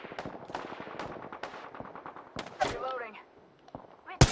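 Rapid bursts of gunfire in a shooter video game, a dense run of sharp shots followed by scattered single reports and a loud close blast at the end, with game voice chatter mixed in.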